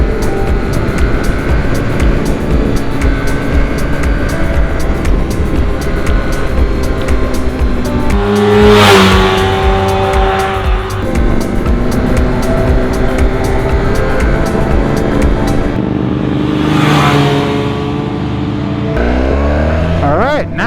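A Honda NR750 motorcycle engine revs loud and close while being ridden, its tone rising and falling through gear changes with two sharp surges, amid steady wind and road roar and no speech.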